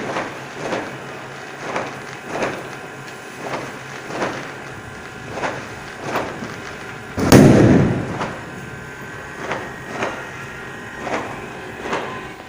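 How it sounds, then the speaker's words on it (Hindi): Fireworks and firecrackers go off outdoors on Chand Raat, with regular distant thumps repeating about every second and a half and one louder, nearer crackling burst in the middle, no talking. "मगर फिर भी लोग इतनी ज़्यादा आतिशबाजी कर रहे हैं"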